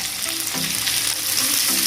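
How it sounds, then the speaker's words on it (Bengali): Chopped onion, ginger and garlic frying in a pan for chilli chicken, a loud, close, continuous sizzle with a few light stirring scrapes. "পেঁয়াজ আদা রসুন সবটা একটু হালকা লালচে বাদামি হয়ে ভাজা হয়ে গেলে"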